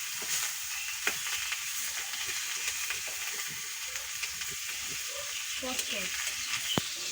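Chicken frying in a pan in a small home kitchen, a steady close sizzle with occasional clicks and scrapes as the pieces are stirred and turned, no voices.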